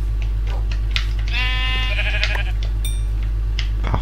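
Goat bleating in the Minecraft video game, a clear wavering animal bleat rising over steady game background noise, with a shorter bleat following.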